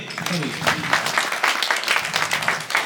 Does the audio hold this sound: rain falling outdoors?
no